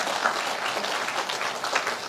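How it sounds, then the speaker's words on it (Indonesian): Church congregation applauding together, a steady dense wash of clapping that fills the space without pause and with no voices over it. "Boleh berikan tepuk tangan bagi Tuhan kita."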